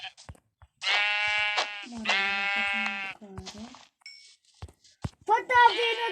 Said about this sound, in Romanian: Uite încă două oi dacă vrei.